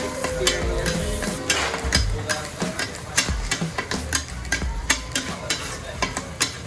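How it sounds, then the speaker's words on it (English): Monja batter bubbles and sizzles on a hot teppan griddle while metal spatulas scrape and chop through it in quick, irregular strokes, loud and close, with steady frying hiss underneath. "So when the soup starts to bubble, that's when you start mixing it."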